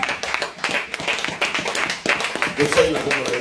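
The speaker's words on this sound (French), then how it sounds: "Acclame pour Jésus" A church congregation claps in a steady rhythm while voices sing and call out over it in worship, lively and close.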